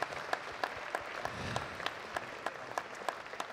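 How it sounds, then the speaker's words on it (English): Audience applause at the Proud of Barnsley Awards 2021 ceremony, a steady round of clapping from many hands that fills the room and carries on throughout without any voices over it. "let's have another round of applause for all them"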